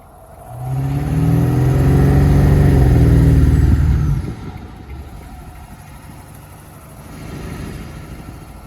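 A truck rolls through heavy highway traffic, a loud low engine and road rumble building and holding for several seconds before easing into a quieter steady drone with a faint swell near the end.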